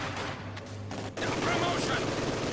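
A Maxim machine gun fires in a World War strategy video game match, with dense rattling bursts and battle noise that swell midway, while commentators talk over it.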